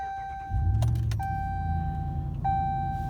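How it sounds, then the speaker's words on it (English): A 2015 Ram 1500 Big Horn 4x4 pickup with a 5.7L Hemi V8 starts up inside the cab, with a low engine rumble settling into idle under steady chime tones. "We'll go ahead and shut the door, and I'm going to go ahead and start the truck up."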